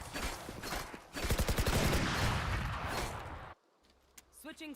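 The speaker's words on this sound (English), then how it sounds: "Bro, I keep accidentally shooting." Rapid bursts of gunfire from the video game Valorant crackle loud and dense, then stop abruptly and give way to quieter in-game sounds, with a player talking over the shots.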